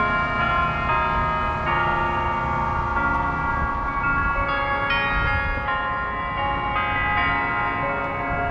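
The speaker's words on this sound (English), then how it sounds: "First premiere stream where you can actually hear this church and their bells." Church bells in Stockbridge, Georgia ring on and on. Their layered metallic tones overlap and hold steady, loud and near, with no talk over them.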